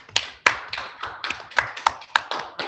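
Scattered hand claps from a small group applauding the winning house in a school points announcement, a handful of sharp, uneven claps spaced through the stretch, fairly close and moderately quiet.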